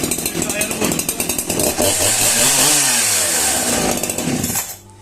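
Hyundai H865 chainsaw engine running with a harsh, buzzing roar, revving up and falling back in pulses before cutting off near the end, while people talk over it.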